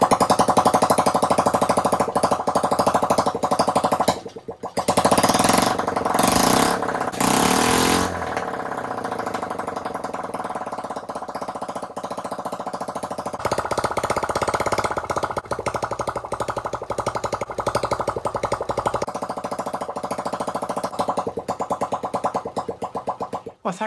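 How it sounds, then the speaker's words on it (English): A Honda SS50 motorcycle engine, freshly rebuilt, sputters and catches, revs briefly, then settles into a steady idle, with no talking. "I was really pleased how well the Honda SS50 engine started up and ran."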